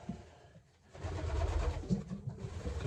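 Pigeons coo softly in a loft, low muffled warbling calls in short bursts amid faint rustling and shuffling nearby.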